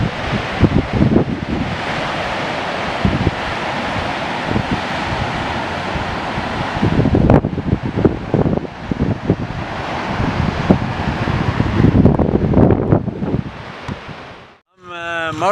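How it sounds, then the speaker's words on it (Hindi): Loud rushing water from a mountain stream near Mahodand Lake in Swat Valley roars steadily throughout, with wind noise buffeting the microphone and a brief dip near the end. "तो आगे आपको पानी का शोर भी सुनाते हैं"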